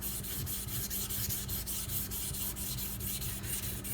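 A Ganzo knife's convex bevel scrapes against a wet sharpening stone in steady, close back-and-forth strokes, a soft, even rasping with a regular rhythm.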